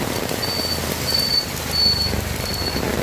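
Steady rain falls outside near a flour shop, a continuous wash of drops with a faint high whine running through it and no voices.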